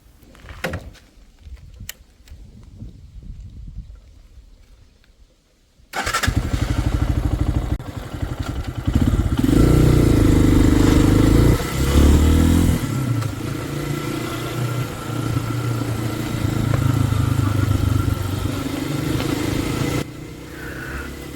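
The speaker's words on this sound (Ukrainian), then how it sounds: "Перемкнулись і заводимося по новій та їдемо." A motorcycle engine restarts after being switched to reserve fuel, its loud, steady running and revving taking over after a few quiet seconds of small clicks, then holding as the bike rides off on the way to a quarry.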